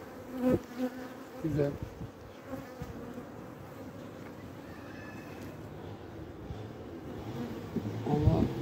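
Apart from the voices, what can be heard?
honeybees in a hive during inspection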